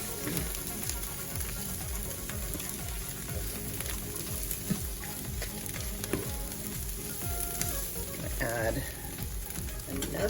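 Bread cubes for a low-carb vegan stuffing dunked and mixed in a pan, a low crackling sizzle with soft stirring scrapes and a brief wet swirl near the end, close and continuous.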